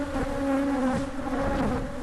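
Bees buzz steadily around a hive, a close, continuous drone with shifting pitch as individual insects swirl nearby, no voices over it.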